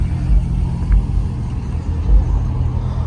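A 1994 Porsche engine rumbles steadily at a hot outdoor car meet, a loud low drone with slight throbbing swells heard close by and no talking.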